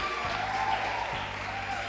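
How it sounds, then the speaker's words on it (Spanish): Audience applause at a women's leadership forum in Mexico, a steady wash of clapping from a seated crowd across the whole stretch, moderately loud and even, with no voices standing out. "un aplauso a Ali"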